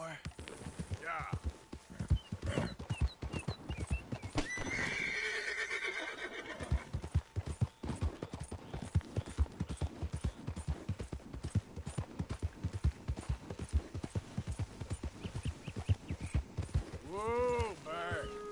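A horse in Red Dead Redemption 2 whinnies and snorts while its hooves clip-clop in a steady rhythm, close up, with someone talking to the horse throughout.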